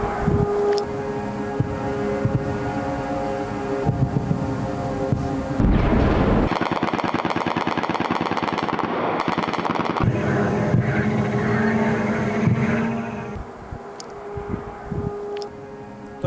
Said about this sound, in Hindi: इन धमाकों की आवाजों को जरा सुनिए।